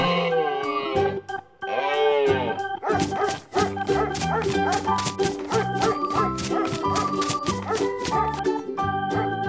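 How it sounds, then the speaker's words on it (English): A dog barks and yips in quick bursts, the sound processed with distortion-like effects, set against a loud rhythmic music track that runs throughout. "Dog."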